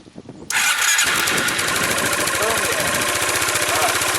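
A 2005 Yamaha Majesty scooter engine cranks briefly, then fires and settles into a loud, steady close idle with a rapid pulsing beat.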